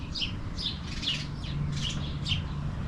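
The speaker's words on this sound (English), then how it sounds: "you can hear the birds just tweeting and singing" Small birds chirping and singing outdoors beside a garden planter, about six short bright tweets spaced through a few seconds, fairly near, over a constant low background hum.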